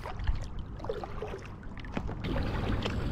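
Paddle strokes splashing water beside a packraft on a windy day, close and fairly loud, with soft sloshing and wind rustle between strokes.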